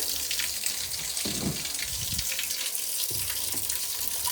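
Water runs steadily from a tap into a bucket for floor cleaning, a continuous bright hissing gush at close range, with a few faint knocks and shifting tones as the bucket fills.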